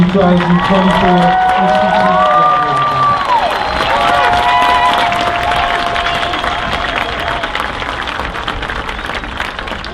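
A large crowd at the 2024 HB Thompson Middle School graduation applauds and cheers loudly and steadily for the graduating class, with children shouting over the clapping as it carries on throughout.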